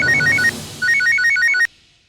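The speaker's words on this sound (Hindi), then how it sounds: "अरे पवित्र वंदना भाभी के पापी पति का पुनश्च फोन, वो भी परम पूज्य जोशीपुरा को।" A telephone ringtone: a bright, repeating electronic melody plays loud and close in two bursts, pauses briefly, then cuts off abruptly into silence.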